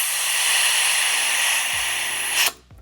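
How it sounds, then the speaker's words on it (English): Compressed air hisses loudly and steadily from the tank of a First Strike T15 paintball marker, close up, cutting off sharply near the end with a couple of low knocks. "as soon as you screw the tank in, you're going to lose a bunch of air"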